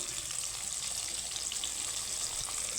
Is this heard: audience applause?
no